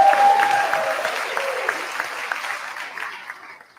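Family members applaud and whistle from an upper tier at a county jail ceremony for inmates graduating from a program, clapping strongest at the start and then fading away.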